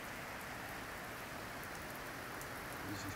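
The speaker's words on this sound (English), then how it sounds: "but this rain," Steady, dense rain falls at a campsite in Queensland, a constant broadband hiss with a few louder drop hits, fairly close and with no talking.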